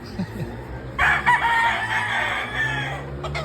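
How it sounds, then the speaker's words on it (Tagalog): A rooster crows loudly for about two seconds, a harsh drawn-out call, with faint clucking and some voices in the background. "Yan ang mga manok."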